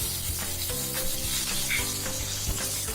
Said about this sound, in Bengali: আমরা আদাটা ছিটছে বলে একটু নুন ছিটিয়ে দিলাম, যাতে ছিটকে আমাদের গায়ে না লাগে।